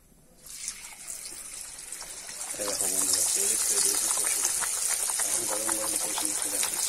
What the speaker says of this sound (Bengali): তেল চলে এসছে, এবার তেলে ছেড়ে দেওয়া হবে